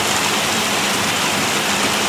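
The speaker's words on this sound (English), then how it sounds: "it's raining now" Steady rain falls outdoors in a cut-flower garden, a dense, even hiss that holds at full strength for the whole two seconds with no voices over it.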